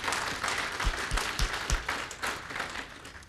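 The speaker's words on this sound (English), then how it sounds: "A round of applause for Richard." Audience clapping after a talk on reproducible data science with Docker, a brief burst of applause from a modest crowd with a few distinct near claps, steady then tapering.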